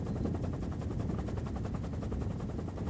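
Rapid, dense bursts of cannon and automatic gunfire from archival Gulf War footage of an air attack on the road to Basra. They form a continuous rattling barrage, loud and unbroken, with no voices.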